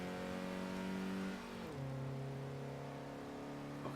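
A car engine in Forza Horizon 3 hums steadily at a held pitch, then drops lower as it shifts, staying at moderate level with no one talking.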